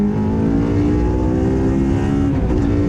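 A Toyota MR-S fitted with a fully tuned Honda K24 VTEC engine lapping a race circuit, its engine droning loud and steady at high revs with layered harmonic tones, no voices present.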